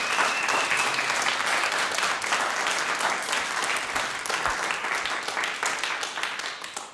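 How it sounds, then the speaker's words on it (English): Sustained, dense applause from an audience at a graduate percussion recital, loud and steady throughout before slowly tapering toward the end. "Can we give David a round of applause?"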